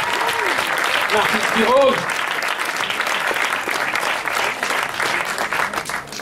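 Audience at a Montreal screening applauds steadily throughout, a dense continuous clatter of clapping with a few cheers, while someone speaks over it.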